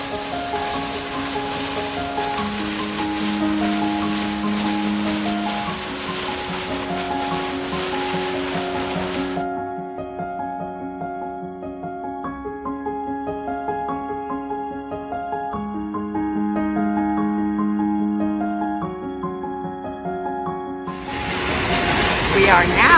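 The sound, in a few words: waterfall flowing strong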